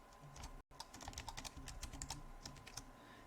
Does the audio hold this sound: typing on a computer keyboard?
yes